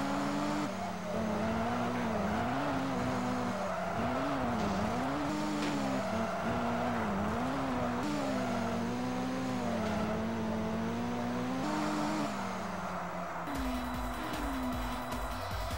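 Race cars in the Sega Touring Car Championship video game roar continuously, engines revving up and down with shifting pitch through corners, loud and up front with no talking over them.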